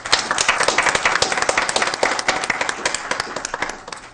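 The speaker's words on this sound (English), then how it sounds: "Let's give him a round of applause." An audience claps at a school board special meeting in Newport News, a brisk, close burst of applause with distinct individual claps that thins out toward the end.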